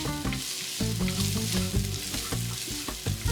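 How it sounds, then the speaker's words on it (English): Diced onion sizzling in a couple tablespoons of oil in a big pot, a loud close steady sizzle with stirring scrapes and clatter of a utensil against the pot. "into a big pot, I'm going to add a couple tablespoons of oil and a second onion that's been diced up"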